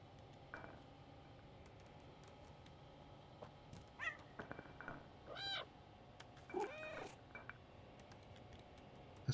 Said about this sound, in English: I certainly haven't done enough meowing in this game.